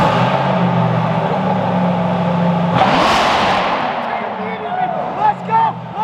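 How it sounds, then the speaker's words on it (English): A C8 Corvette with an FI exhaust revs hard, a loud rising engine roar that builds for nearly three seconds, then cracks into a sharp burst and drops away, followed by an excited voice. "this is one of the best sounding cars I've owned. The FI exhaust C8 Corvette."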